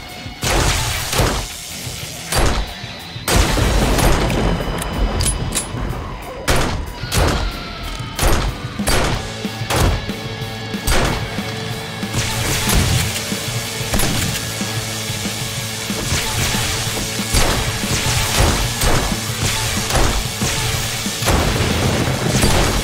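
Explosions during a blood moon zombie horde in 7 Days to Die Alpha 20: repeated loud booms, thuds and crashing impacts, some close and heavy, scattered irregularly across the whole stretch with little or no talk.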